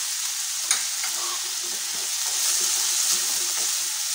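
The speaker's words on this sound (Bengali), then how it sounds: "সবগুলো উপকরণ একসঙ্গে একটু ভালো করে ভেজে নেব।" Small chunks of potato and carrot frying together in oil in a pan: an even, close sizzle holds throughout with a couple of faint clicks from stirring, no talking.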